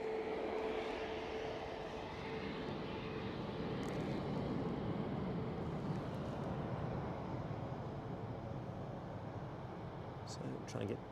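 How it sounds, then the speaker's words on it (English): A Qatar Boeing Dreamliner takes off at Edinburgh Airport with a continuous, moderately distant engine rumble and rush. A person talks over the sound for much of its length. "Nice and early, very early for the Qatar Dreamliner in terms of rotation."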